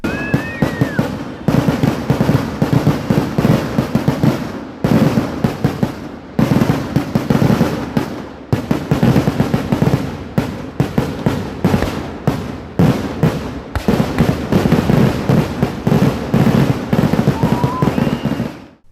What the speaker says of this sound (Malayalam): രാത്രി 9-ന് നടത്തിയ കരിമരുന്ന് പ്രയോഗവും വെടിക്കെട്ടും